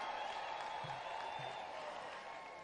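Faint, distant crowd applause at a thanksgiving ceremony, a steady wash of clapping with no individual claps standing out.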